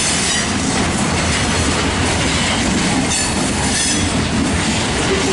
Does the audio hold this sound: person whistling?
no